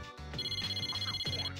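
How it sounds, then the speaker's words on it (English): Persona 3 Portable video game phone ringtone for an incoming call, a clear electronic ringing pattern of repeated chirping tones pulsing rapidly and evenly, fairly quiet and heard alone. "Mitsuru received an incoming call or phone."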